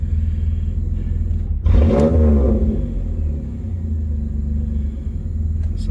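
A 2000 Pontiac Firebird V6 breathing through a Flowmaster exhaust idles with a deep rumble, then blips the throttle once with a slight hesitation before settling back to a steady low drone, close and loud.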